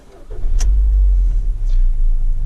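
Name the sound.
Ford Focus 1.6 engine running with a knock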